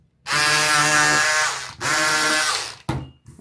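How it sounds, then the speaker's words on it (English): A motorized cutter or power tool slicing through lace fabric panels for an upcycled boho fringe bag, a steady buzzing whine in two long bursts with a brief pause, then a short final burst, close and loud. "So I'm just going to cut these over to the 10-inch"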